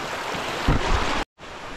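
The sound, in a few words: rushing stream water in a forest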